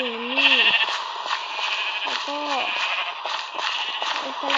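Sheep on a sheep farm bleat several times, wavering, drawn-out calls repeating at close range over a steady background hum.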